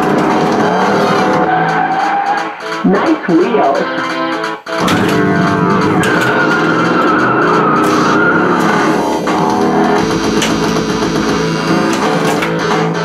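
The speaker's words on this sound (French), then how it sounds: "Pour l'instant, on écoute quelques sons d'origine du flipper." Original sound effects from a racing-car-themed pinball machine: loud, continuous engine roar and tire-squeal effects layered with music, a brief dip midway, and a short spoken line from the machine.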